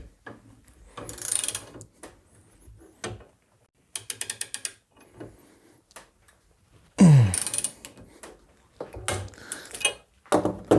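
A steering stem on a BMW R80 motorcycle being pressed into its head bearings with a threaded rod and nuts, heard as close bursts of rapid ratchet clicking with pauses and a brief metallic creak, no talk.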